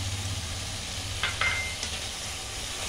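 Banana flower cooking with spice masala and a splash of water in a pan, a soft steady sizzle with a few brief clinks and scrapes of stirring, no voices.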